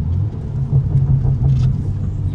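Kart engine droning steadily while being driven, a continuous low rumble with slight rises and falls in pitch, close and loud, with no voices.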